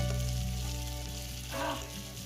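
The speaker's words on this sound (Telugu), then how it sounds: "ఆ తర్వాత అందులో దాల్చిన చెక్క చిన్న ముక్క, లవంగాయలు 2-3 వేసుకొని ఒకసారి తిప్పుకోవాలి ఫ్రెండ్స్." Cinnamon stick and a few cloves sizzle softly in hot oil in a kadai while being stirred, a steady low fry with a brief swell of scraping partway through.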